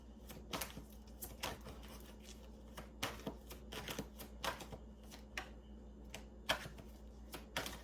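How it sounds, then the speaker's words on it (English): Tarot cards being shuffled by hand close to the microphone, quiet irregular crisp flicks and taps in uneven bursts, without any voices. "I feel like I need to keep shuffling."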